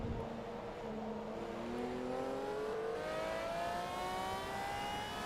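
Dodge Daytona IROC engine in the Forza Motorsport 2 racing game, a steady close drone with rising revs climbing in pitch through the gears, heard alone without talk.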